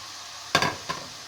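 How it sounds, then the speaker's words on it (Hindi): Onions dropped into hot oil over high heat for chicken biryani, a sudden loud sizzling burst followed by a second smaller crackle, close up with no voices. "आधा किलो चावल के लिए दो बड़े साइज़ की प्याज तेज़ आंच पे इसको फ्राई करेंगे"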